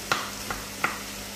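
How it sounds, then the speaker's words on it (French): Spaghetti and chipolata sausages sizzle softly in a pan while a utensil stirs them, giving three brief scraping clicks over a steady low frying hiss. "Je vais mélanger tout ceci"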